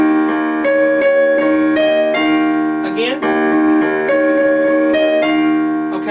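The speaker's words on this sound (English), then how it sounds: "We're going to have this measure is going to sound like this." A piano plays a measure of a song, repeated chords in a steady rhythm, close and loud, with one short spoken word partway through.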